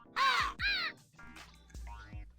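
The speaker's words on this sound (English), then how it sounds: "Should probably do something about those birds." Crows caw outdoors in a few loud, harsh calls: two strong caws close together, then fainter scattered caws with low background noise.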